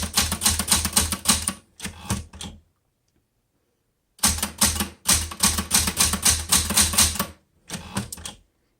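Typing on an original blue Smith Corona Galaxie Twelve manual typewriter with tight, springy keys: two bursts of rapid, loud key strikes and clacks close by, broken by a pause of near silence, with no talking.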